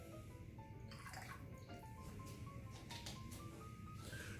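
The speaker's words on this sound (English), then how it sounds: "I'm gonna put my water in first so we get the ratios exact." One ounce of water is poured into a container for a Leisuremann's Cosmopolitan mix, giving a faint, brief trickle and splash with small drips, quiet and close.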